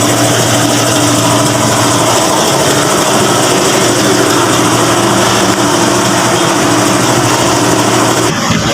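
A 2010 Ford Expedition engine runs with a steady drone, a constant hum and a whirring high-pitched layer, close by and loud, cutting off abruptly at the very end.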